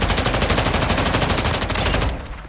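Rapid, continuous automatic fire from an anti-material rifle in Call of Duty Modern Warfare II, a loud unbroken burst of closely spaced shots lasting about two seconds before cutting off into a brief ringing tail.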